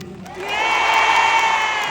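A large concert crowd in an arena cheers and applauds as it rises into a loud, sustained roar of voices and clapping, close and continuous.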